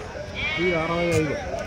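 A goat at a goat market lets out one long, wavering bleat nearby, loud and clear against a quiet background.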